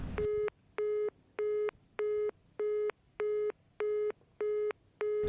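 After a phone call is hung up, the line plays a busy tone: nine even beeps in a steady on-off rhythm, clear and alone.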